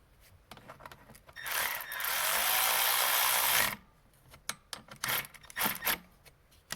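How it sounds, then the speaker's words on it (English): A 3/8 inch ratchet works a bolt during maintenance on a 1992 Dodge 5.9 Cummins, giving a sustained close rasping click run of about two seconds, bracketed by scattered clinks and handling noises. "I'm really impressed with this 3/8 ratchet."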